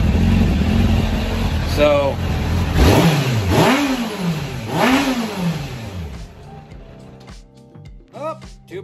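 A Suzuki Katana motorcycle engine runs and revs several times, pitch sweeping up and falling back in rising bursts, close by, with a brief spoken word and quieter idling afterward.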